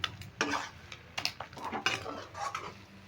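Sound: pouring khesari greens with rice flour into a pot

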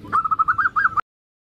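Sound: zebra dove cooing

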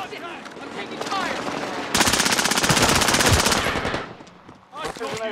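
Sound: gunfire in the video game Warzone

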